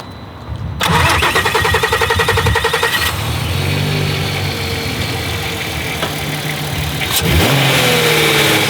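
A Volkswagen Golf R32 engine cranks over with a weak battery, catches and fires into a loud, close idle, then revs up sharply near the end with no talk over it.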